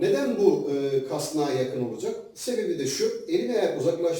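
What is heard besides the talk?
No everyday noise stands out behind the speech.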